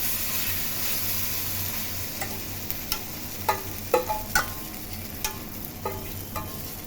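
A beaten egg and onion omelette mixture sizzles steadily on an oiled dosa tawa over low heat, with sharp spatula clicks and scrapes tapping in irregularly toward the end.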